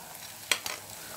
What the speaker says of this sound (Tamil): லோ ஃப்ளேமை விட கொஞ்சம் ஜாஸ்தியாக வச்சு பொரிச்சு எடுத்துக்கோங்க